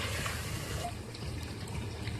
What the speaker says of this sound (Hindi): थोड़ा सा पानी ऐड कर लेते हैं।